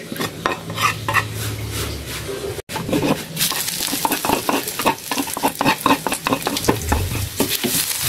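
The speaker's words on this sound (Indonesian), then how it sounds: "selanjutnya kita goreng bumbu yang sudah kita haluskan tadi" Ground spice paste for soto ayam, including candlenuts, fries and sizzles in a pan over low heat while a utensil stirs and scrapes it, giving continuous close frying with repeated clinks against the metal.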